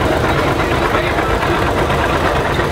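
A 1957 Farmall 450 tractor engine runs at a county fair parade, giving a loud, steady rumble and chug that never lets up, with broad outdoor noise around it.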